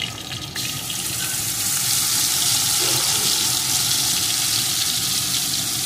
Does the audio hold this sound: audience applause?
no